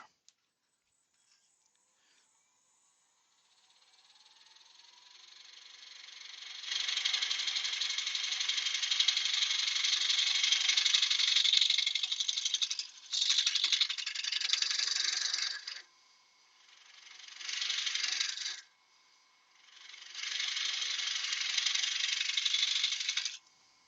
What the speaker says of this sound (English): I'm just going to use the scraper.